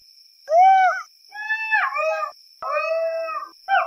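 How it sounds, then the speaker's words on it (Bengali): Jackals howl at night in a village, several loud wavering calls overlapping and rising one after another, over a steady high insect drone. "শিয়ালের হুক্কা হওয়া ডাক"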